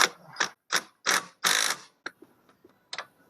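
Thermostat housing bolts on a 2003 Pontiac Montana with a GM 3.4 engine are tightened with a ratchet, giving several loud, close bursts of clicking followed by a few quieter single ticks.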